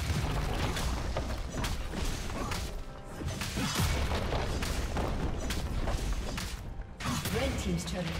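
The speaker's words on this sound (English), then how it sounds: "Red team's turret has been destroyed." In League of Legends, a turret collapses with heavy booms and crashing, crumbling debris amid dense game sounds and a continuous loud battle roar.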